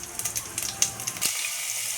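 Mustard seeds and asafoetida crackle and sizzle in hot oil in a home kitchen, a dense close frying hiss with scattered sharp pops throughout, no talking.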